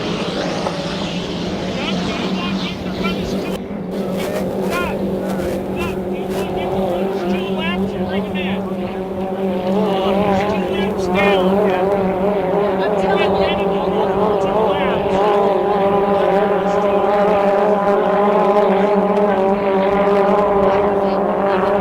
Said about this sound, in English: the boat's running